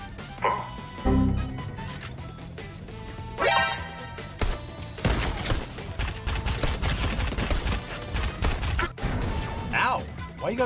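Rapid bursts of gunfire in the Fortnite video game crackle across the middle of the clip, mixed with other game sounds and a player's excited voice.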